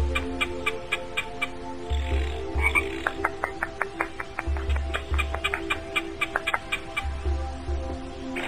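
Frogs croak in repeated low, throaty bursts that come and go in a loose rhythm, with quick ticking chirps and light calls scattered over them in an outdoor nature setting of an animated children's show.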